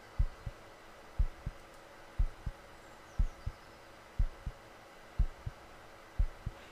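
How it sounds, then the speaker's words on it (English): A video game heartbeat thumps in steady paired lub-dub beats, roughly one pair per second, close and clear over a faint background hum. "all you hear right now is just your heartbeat"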